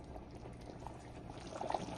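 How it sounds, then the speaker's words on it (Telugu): Water trickles faintly into a small bowl of gram flour while a goat sambar is being prepared at home, a soft steady pour against quiet background. "2 చెంచాల శనగపిండిలో తగినంత వాటర్ వేసుకోండి."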